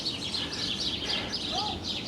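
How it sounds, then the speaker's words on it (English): Birds chirp and sing outdoors in the morning, high repeated calls over a steady ambient background, with one brief rising whistle near the end. "Now this morning, listen to those birds."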